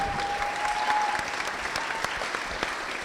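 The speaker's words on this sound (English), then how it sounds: "Give her a round of applause" Wedding guests give a short burst of applause, dense clapping that fades over about three seconds, with a faint voice at the start.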